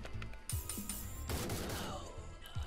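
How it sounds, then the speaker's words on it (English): Sniper support gunshots ring out in Door Kickers: Action Squad, a quick sequence of sharp game gunfire and impacts layered over faint in-game music and effects. "summon sniper support where up to three guys can be taken out by a sniper off map"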